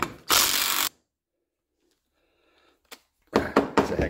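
A pneumatic impact wrench works a nylock nut on a Club Car golf cart front suspension on a bench, firing one loud rattling burst, then a pause with faint clicks before another stuttering series of hammering bursts.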